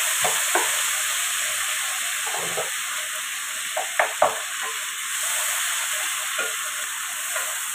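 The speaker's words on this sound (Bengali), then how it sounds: "এবারে আমি দেবো আদা রসুন টমেটোর পেস্ট" Ginger, garlic and tomato paste sizzle steadily in a pan for a pabda fish dish. The hiss stays constant, with a few soft stirring scrapes and clinks over it and no voices.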